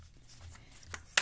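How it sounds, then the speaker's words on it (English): Three tarot decks being shuffled by hand, a soft papery riffle that stays faint and close, with two short sharper flicks of cards near the end. "I did shuffle these already, but I will do it live for you."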